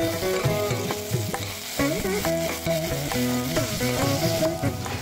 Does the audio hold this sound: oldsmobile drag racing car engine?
no